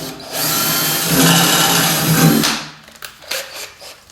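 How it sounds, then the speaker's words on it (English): A power drill whines loudly for about two seconds as it bites into a thick metal coolant tank on a milling machine, then stops, followed by a few light clunks and scrapes. "We'll drill that coolant tank now and tap a little thread in there."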